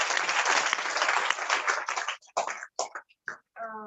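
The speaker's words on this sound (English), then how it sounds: "Let's give him a round of applause." Conference audience at a nurses' research meeting gives a round of applause, dense and steady clapping for about two seconds before thinning into scattered claps, with a voice starting up at the end.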